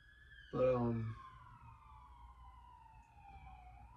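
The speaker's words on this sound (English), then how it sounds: "I don't know what all those sirens are going on for" A siren wails on a long, high falling tone, carrying on faintly in the distance, while a voice briefly speaks near the start.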